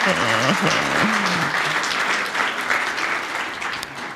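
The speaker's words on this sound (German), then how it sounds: "nochmal ein Sonderapplaus für Peter dann stellvertretend für das Team" Sustained audience applause at a web week event in Nuremberg, many hands clapping steadily, with a voice speaking briefly at the start before the clapping carries on and slowly thins.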